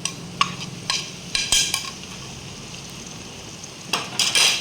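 Spices are stirred by hand into Kerala-style fish head curry, giving a few close clinks and scrapes of a spoon against the pot over a low, steady cooking hiss, with no speech.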